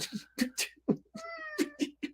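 A cat meows repeatedly in a string of short, close, clear calls with one longer drawn-out meow in the middle, heard alone in a quiet room.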